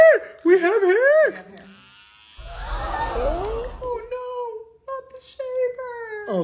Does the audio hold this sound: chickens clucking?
no